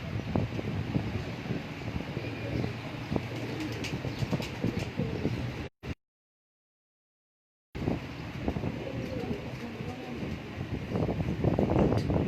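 Pigeons, rare breeder birds kept by a hobbyist in Sheikhupura, coo in soft repeated phrases amid wind noise on the microphone and faint voices, with a short cut to silence midway before the cooing resumes.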